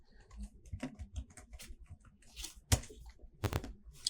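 Quick bursts of keystrokes on a computer keyboard, close and fairly quiet, clicking in short irregular runs with brief pauses between them.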